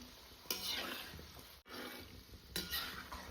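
Shankarpali sizzle in hot oil on a wood-fired chulha while a utensil stirs and scrapes the pan, two bursts of stirring over a constant frying hiss.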